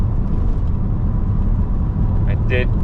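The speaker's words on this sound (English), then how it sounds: "I did spin the wheels a little bit at the beginning there, but in an 85 horsepower van" VW Transporter T5 van with an 85 bhp 1.9 TDI diesel, remapped, accelerating hard from rest with a little wheelspin; a steady loud engine drone runs throughout, with a brief higher squeal near the end.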